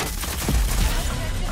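Rapid bursts of gunfire in the online shooter Rogue Company, a short fusillade of punchy shots over game background noise, loud and close.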